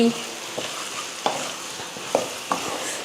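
Mutton fry (varuval) sizzles steadily in a pan while a spoon scrapes and stirs it in a few distinct strokes, close and clear with no talking.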